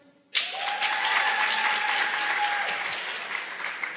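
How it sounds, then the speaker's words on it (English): An awards-event audience bursts into clapping after a brief quiet start, holding a full, steady applause for several seconds with a faint sustained tone underneath. "Tell me, clap your hands."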